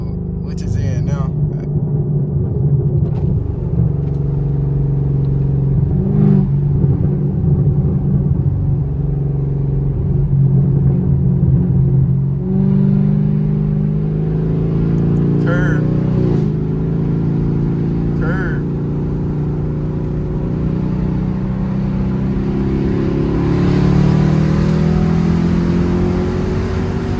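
A Chevrolet Camaro SS in performance mode on the street: a loud, continuous engine rumble with revs swelling and rising, and voices talking over it.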